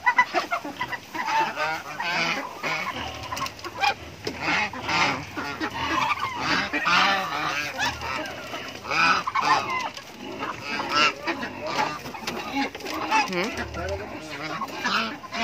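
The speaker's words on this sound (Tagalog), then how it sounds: "Ang daming pabo, ang daming ganso, ang daming pato." Geese, turkeys and ducks on a small farm honk and gobble in a dense, continuous chorus of overlapping calls, close and fairly loud throughout.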